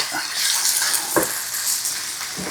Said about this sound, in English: I'm going to add some garlic to it, just 1 spoonful of garlic. And we'll let this cook in for about a minute.